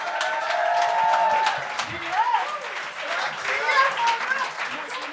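A comedy-show crowd applauds and cheers a guest judge at a gong show, sustained clapping with a host talking loudly over it.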